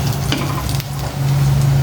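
Green beans being stirred as they sauté in a pan, with a steady close sizzle and scraping stir strokes throughout, getting louder toward the end.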